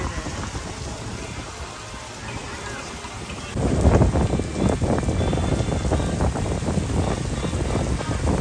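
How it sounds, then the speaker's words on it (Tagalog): Heavy rain pouring down outdoors at a theme park, a dense steady hiss that suddenly grows louder and heavier partway through, with wind noise on the microphone. "It's raining so hard."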